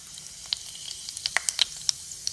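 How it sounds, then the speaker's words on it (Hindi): Whole garam masala spices (cumin, cloves, black and green cardamom) hit hot oil in a pan, a low steady sizzle dotted with sharp crackles and pops that come in quick irregular bursts. "देखिए तेल गरम हो चुका है, और अब मैं ये जो गरम मसाला मैंने लिया था वो इसमें डालूंगी"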